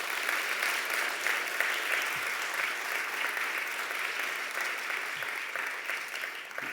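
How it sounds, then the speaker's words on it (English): Sustained applause from an audience at an alumni award ceremony honoring award winners, a steady wash of clapping at moderate distance with no break. "Let's give a round of applause for all of our alumni difference makers tonight."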